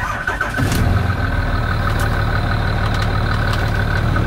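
A Cummins-swapped Ford truck engine cranks briefly and catches, then settles into a loud, steady, rumbling idle close by for the rest of the clip.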